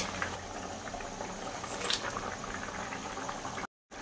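Rohu fish curry gravy with potatoes simmers in a pot, a soft steady bubbling and faint popping throughout with no voices, ending in a short gap.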